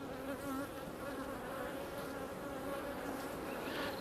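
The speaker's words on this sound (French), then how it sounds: "beaucoup d'abeilles qui me tournent autour, mais elles sont pas, ça va, elles sont pas agressives" Many honeybees buzz around an open beehive in an apiary, a steady close swarm hum that stays even and fairly quiet throughout, with no voices.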